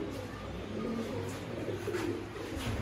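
A pure Imam Deen pigeon coos softly and close by in low, throaty calls, with faint background noise.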